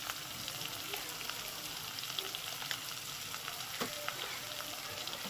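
Bhetki fish bones sauté in hot oil with cumin, chili and turmeric powder, giving a steady broadband sizzle with occasional stirring clinks and scrapes, close and continuous.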